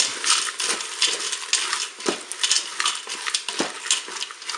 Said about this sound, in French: Je vais ajouter mes farfales. Je mélange tout ça.